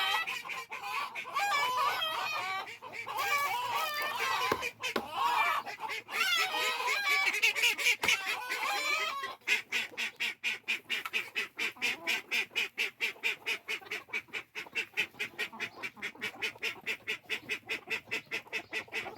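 Call ducks squabbling at water dishes in a backyard with chickens, a busy clutter of quacks and honking calls up close, then a long run of rapid, rhythmic quacks.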